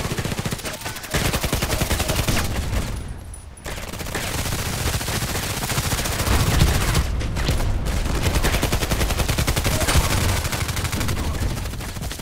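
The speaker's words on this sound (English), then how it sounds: "In the hangar is a lot of shooting" Sustained automatic gunfire in the online shooter Contract Wars, a dense, loud barrage of rapid shots inside a hangar, with one brief lull before the firing resumes and keeps going.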